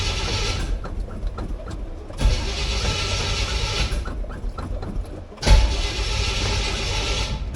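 A car engine that has sat for a week is cranked over: long, loud bursts of whirring, rhythmic cranking with brief gaps between attempts, close up and without speech.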